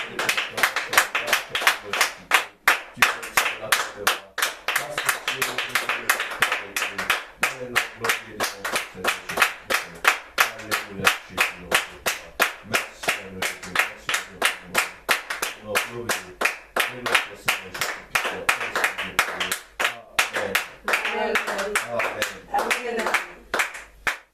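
Church congregation clapping in praise, steady rhythmic handclaps continuing throughout, loud and close, with singing or voices mixed in underneath.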